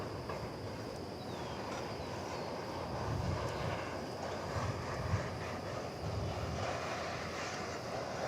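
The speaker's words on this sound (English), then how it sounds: "It's a United Flight 2371 to San Francisco." United Airlines jet taking off at DFW Airport, a steady broadband engine roar with a low rumble that swells slightly midway, continuous and fairly distant, no voices.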